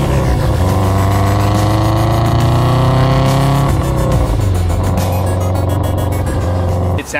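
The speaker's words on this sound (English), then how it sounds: "Every Subaru, you know, you get the rumble and then the high-pitched whistle." A 2017 Subaru's exhaust gives a loud, close, steady rumble with tonal layers that shift in pitch as revs change, an overtone whine riding above the low drone throughout.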